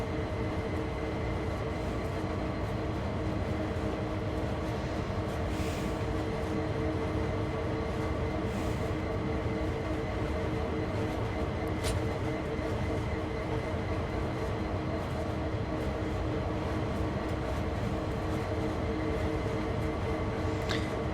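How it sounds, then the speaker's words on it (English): A locomotive pulling a train along the tracks, a steady low rumble with a constant mechanical drone that holds level throughout and never thins out, with no clear breaks between cars. "This is like the strangest locomotive in the history of locomotives that I have ever seen"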